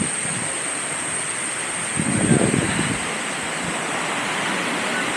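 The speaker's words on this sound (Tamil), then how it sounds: "லாஸ்ட்டாக நாங்கள் அருவிக்கு வந்துட்டோம்." Steady broadband rush of a waterfall on a scenic path in Kanyakumari, with a brief louder surge near the middle and a constant bright hiss above it.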